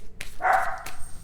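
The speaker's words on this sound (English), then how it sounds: "I'm sorry about my dogs. I think there's somebody outside." A dog barks a couple of times nearby, short sharp yelps with a brief pause between them, no talking.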